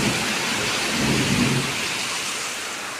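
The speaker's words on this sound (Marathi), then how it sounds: "हे बघा खूप पाऊस आहे त्यामुळे आम्ही गप्प बसलोय." Heavy monsoon rain pours steadily and loudly outside, with a low thunder rumble underneath, continuous throughout.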